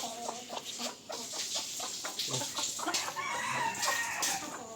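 Village chickens cluck busily nearby in the morning while a rooster crows, the calls overlapping continuously without any talk.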